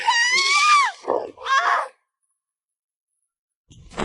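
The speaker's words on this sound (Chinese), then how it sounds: "你有没有听到尖叫的声音？" A high, wavering scream from a zombie apocalypse animated cartoon rings out loudly for about a second and a half, followed by a shorter cry and then silence.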